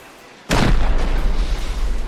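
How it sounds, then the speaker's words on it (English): A sudden loud blast erupts after a quiet moment, followed by a dense, rumbling barrage of gunfire and booms that continues steadily, in the video game Rust. "That was the celebratory gunshots when they got to the PC."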